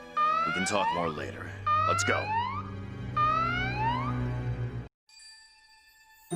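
An alarm sounds in Valkyria Chronicles 4, heard as three loud bursts of sweeping, wavering siren tones over a low steady hum, with speech alongside and a brief silence near the end.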